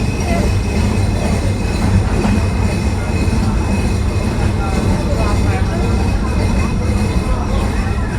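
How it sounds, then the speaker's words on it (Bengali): The Rupsha Express passenger train pulls into Saidpur station with a loud, steady rumble of wheels and carriages, a faint squeal in the mix and a murmur of voices beneath. "আমাদের ট্রেন এই মুহূর্তে সৈয়দপুর স্টেশনে এসে পৌঁছাইছে"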